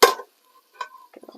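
Lamb pieces seared in hot oil in a pan for a lamb, potato and spinach curry: a short burst of sizzling, then quieter clinks and stirring scrapes.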